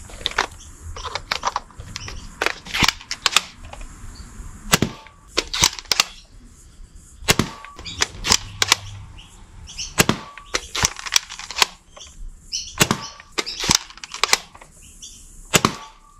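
A modded Nerf Fortnite HC-E blaster with a 10 cm barrel fires Worker Gen 3 short darts, sharp close snapping shots in irregular bursts, with mechanical clacks of the loading mechanism between volleys and no voices.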